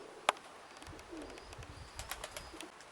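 Domestic pigeons on a gusty, windy day, with soft distant coos and faint chirps over steady wind noise and one sharp click near the start.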